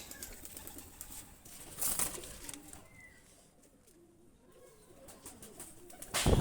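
A female high-flying racing pigeon is released by hand, with soft cooing and brief bursts of wing flapping near the start and again at the end, over quiet outdoor background.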